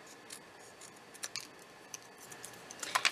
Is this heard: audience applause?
no